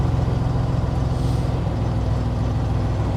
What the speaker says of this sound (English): Like of listening to trucks in and out.